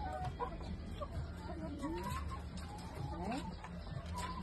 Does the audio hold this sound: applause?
no